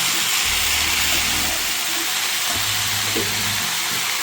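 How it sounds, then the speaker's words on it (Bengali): Note shak greens seasoned with salt and turmeric are stir-fried without water in a pan, giving a continuous close sizzle and hiss with a few low stirring knocks. "এবার আমি এটা নেড়ে চেড়ে ভেজে নেব।"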